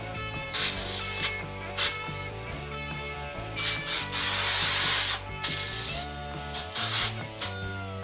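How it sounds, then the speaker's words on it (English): Repositionable spray adhesive is sprayed onto a stencil in short hissing bursts of varying length, close to the microphone, with a sustained musical backing running underneath. "I made sure to protect the surface of my piece while I sprayed the glue"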